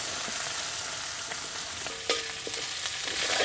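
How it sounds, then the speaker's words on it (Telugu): Chopped onions fry in oil with mustard seeds, cumin and dried red chilies, making a constant loud sizzle with occasional pops and a brief clink of a utensil. "కోసి పెట్టుకున్న ఉల్లిపాయ ముక్కలు వేసేసుకుందాం"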